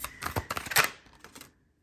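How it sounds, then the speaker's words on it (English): A tarot card deck being shuffled: quick papery riffles and soft card clicks in short bursts, fairly close, fading to quiet in the last half second. "let's get into the shuffle"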